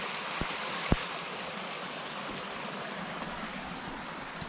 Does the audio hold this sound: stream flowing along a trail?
yes